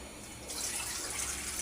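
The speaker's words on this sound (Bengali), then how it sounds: "আমার এখন ঝোল দিয়ে দেবো গরম পানি।" Hot water poured into a pot of curry with potatoes and flat beans to make gravy for pabda fish; a soft steady rush of liquid swells after a quiet start, heard close and alone.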